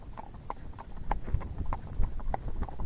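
A horse moving in a rack gait, hooves striking the ground in a quick, even four-beat rhythm, moderately close and fairly soft, with no talking.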